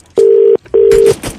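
A telephone gives two long, steady tone beeps after a call disconnects, loud and close, followed by a burst of noisy rustling.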